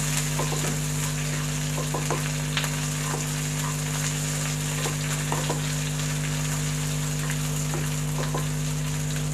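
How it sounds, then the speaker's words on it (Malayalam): Onions sautéing in oil until golden for a Kerala vegetable stew, a steady continuous sizzle with scattered light scraping clicks of stirring under a constant low hum, no talking. "ഒരു ഗോൾഡൻ ബ്രൗൺ ആവുന്നവരെ ഒന്ന് വഴറ്റിയെടുക്കണം"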